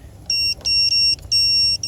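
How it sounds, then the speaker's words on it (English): A Baqsoo 1500A portable car jump starter clamped to a car battery beeping when ready, three loud, close, steady high electronic beeps of uneven length with short gaps, no talking. "there was some kind of beeping and it's already ready"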